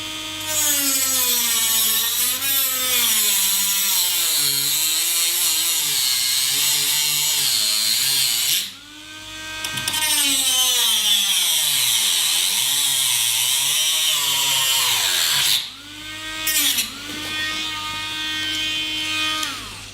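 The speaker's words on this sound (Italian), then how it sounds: "Andiamo al taglio anche di questo pezzetto." A small power tool whines at a steady high pitch while cutting a short length of plastic model railway track for a station layout, running loud and close in two long passes, then stopping briefly and restarting.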